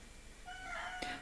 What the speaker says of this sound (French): mon chat qui n'arrête pas de miauler